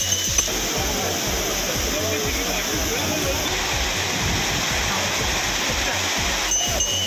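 A temple waterfall on the Chitra river, honored during a ritual, roars as a steady, loud, continuous rush of water with a low rumble throughout, with faint background sounds and no clear talk.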